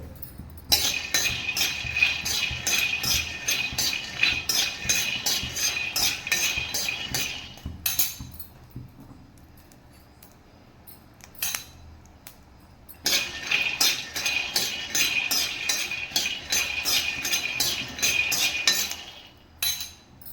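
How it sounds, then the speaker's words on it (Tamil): Peanuts being dry-roasted in a pan until brown: rapid, rhythmic rattling and clinking as they are stirred against the metal, in two long busy stretches separated by a quieter pause with only occasional taps. "நல்லா ப்ரௌன் கலர் வர வரைக்கும் வறுத்துக்கணும் வேர்க்கடலை"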